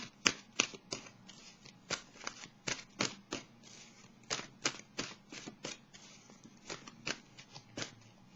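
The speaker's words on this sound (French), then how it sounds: "je vais piger une carte de l'oracle de l'âme intuitive pour terminer" Oracle cards riffled and shuffled by hand at close range, a rapid series of crisp snapping flicks in uneven bursts with brief pauses between them, alone without talk.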